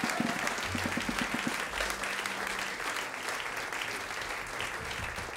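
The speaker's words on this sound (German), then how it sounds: "möchte ich nochmal einen herzlichen Applaus für meine Mitmusikerinnen und Mitmusiker Gerdur Gunnarsdottir hier an der Geige" A concert audience applauds musicians after a live jazz and strings performance, steady dense clapping filling the hall throughout, with a brief murmur of voices underneath.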